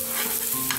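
Onions fry in hot mustard oil with a continuous close sizzle, broken by a couple of brief stirring scrapes.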